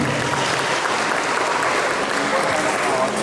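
Sustained audience applause for a volleyball coach at a school coaching clinic, a dense steady clapping crowd filling the whole stretch with little variation.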